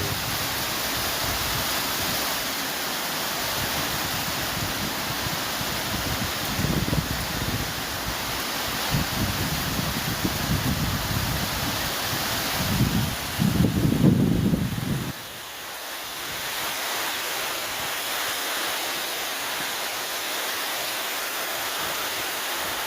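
Heavy rain pours down over a long-dry natural canal near the coast, a steady broadband wash of roaring downpour that holds strong for about fifteen seconds, then eases to a softer, even hiss.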